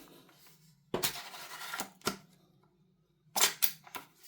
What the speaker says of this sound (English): Let's try the pull on the bolt.